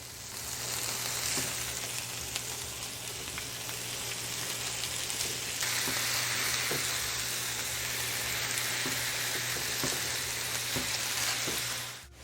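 Burger patties on a griddle, with jalapeño and grilled onions, sizzle in a dense, steady crackle like rain, with faint scraping taps as they are flipped, close and unbroken.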